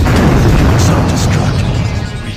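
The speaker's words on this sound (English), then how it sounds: "What an explosion!" Explosion in Sonic Heroes, a loud deep boom filling the whole stretch with a rumbling, crackling tail that slowly fades.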